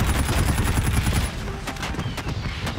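Automatic gunfire in the Call of Duty Infinite Warfare game, a rapid close burst of shots for about a second, followed by scattered further shots and impacts amid the battle din.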